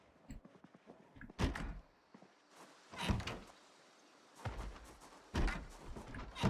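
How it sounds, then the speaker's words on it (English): A zombie banging on a door in Project Zomboid, heavy hollow thuds coming in irregular clusters of blows separated by short pauses, fairly close. "Let him bang on the door"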